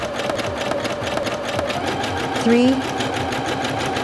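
A Singer Featherweight C240 sewing machine stitches steadily with a rapid, even mechanical chatter, close by, while someone talks over it and counts aloud.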